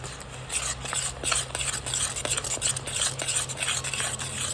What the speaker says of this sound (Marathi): तर आता हे पनीर तळलेल्या तेलामध्येच आपल्याला हे जी पेस्ट केलेली ती टाकून घ्यायची